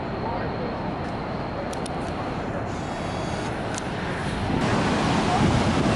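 Rough, churning water and gusting wind at Niagara Falls form a steady, loud broadband roar that swells toward the end, with faint voices in the background.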